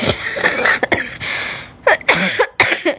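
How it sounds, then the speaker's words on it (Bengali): Several loud, close coughs in uneven bursts break out after laughter, with a short pause before the last harsh hacks. "হাসতে হাসতে কাশি পেয়ে গেছে"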